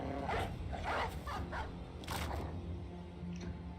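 A war dog let loose in the video game Battle Brothers, with several short barks and yips spaced across a few seconds over steady game ambience.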